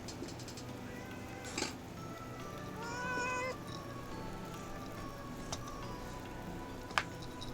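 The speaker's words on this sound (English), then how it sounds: "You hear her meow?" A cat gives a single short meow amid quiet room noise, with a few faint ticks and taps around it.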